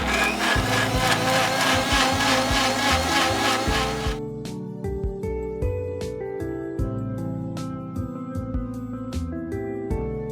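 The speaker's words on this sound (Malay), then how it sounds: "Okey, bahan-bahan ini kita kisar dulu ya." Electric blender grinding a batch of curry ingredients for mutton curry, a loud dense whirring roar for the first four seconds, then a choppier rattling grind with stop-start bursts as the motor pulses through the remaining paste.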